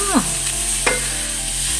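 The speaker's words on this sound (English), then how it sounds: "그럼 이거 버터 갈릭구이, 버터 갈릭 새우구이" Garlic butter shrimp fry in a pan with a steady bright sizzle and occasional brief clinks from stirring.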